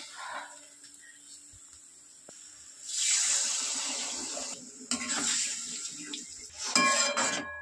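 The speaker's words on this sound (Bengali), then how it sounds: "এরপরে আমি জল দেব।" Water poured into hot oil in a cooking pan for a home fish dish erupts into a loud, hissing sizzle after a quiet opening, fading slowly and flaring up again in further bursts.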